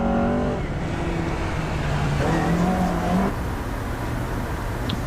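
Toyota Corolla rally car at a rally sprint, its engine revving hard and steady through gear changes, loud and close throughout with rising and falling pitch as it powers along the stage.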